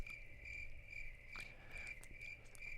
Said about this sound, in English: Exactly. Crickets.